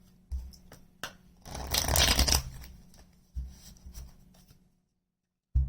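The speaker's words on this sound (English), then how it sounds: "Let's get one more shuffle." Tarot deck shuffled by hand up close: sharp taps, then a sustained riffling flutter building to a loud rush, followed by a few softer knocks before falling silent.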